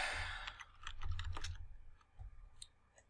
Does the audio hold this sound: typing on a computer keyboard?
yes